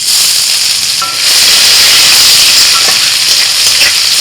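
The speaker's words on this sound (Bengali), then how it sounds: "কড়াইতে ফোড়নে প্রথমেই আমি দিয়ে দিচ্ছি শুকনো লঙ্কা কালো জিরে আর তার সাথে দিচ্ছি একটু গোটা জিরে সেদ্ধ করা রসুন" Dried chillies, nigella seeds, cumin and boiled garlic hit hot oil in a wok, giving a loud, close, steady sizzle and crackle that swells slightly and keeps hissing throughout.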